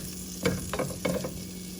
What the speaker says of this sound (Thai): เราจะทำการผัดหัวหอมกับแซลรี่ก่อนนะคะ